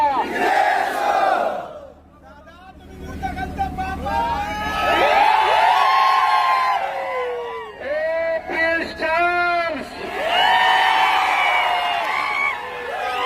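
A large crowd at a political victory rally in Pandharpur roars and chants loudly in repeated surging waves, with voices shouting over the sustained cheering.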